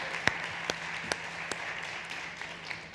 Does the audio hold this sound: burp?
no